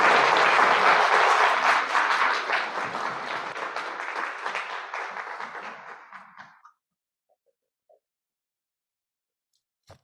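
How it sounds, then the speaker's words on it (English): Lecture audience applauding at the close of a speech, a strong sustained round of clapping that thins gradually and stops after about six and a half seconds, leaving near silence with a faint tap at the end. "give Dr. Chance Lewis another round of applause"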